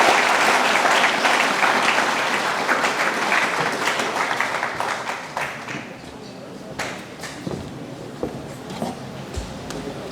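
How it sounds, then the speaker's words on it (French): A crowd at a graduation ceremony breaks into sustained applause that starts dense and loud, then thins into scattered claps, with voices talking and calling out throughout. "On nous applaudit une autre fois"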